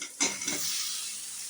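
Beans, potato and tomato tipped into hot spiced oil in a pan, a sharp hiss bursting in at once and settling into a steady, close sizzle with a brief stir.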